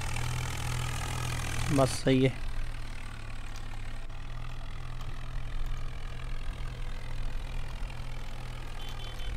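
A tractor engine idles in Farming Simulator 19 with an Indian mod, a steady low drone running throughout, with a brief louder burst near two seconds and someone speaking over it.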